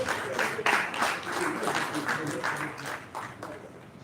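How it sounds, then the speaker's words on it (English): Applause from the audience at a Nigerian reputation summit ceremony, a dense steady clatter of many hands that swells early and slowly fades toward the end, filling the room without any talk over it. "Please give another round of applause."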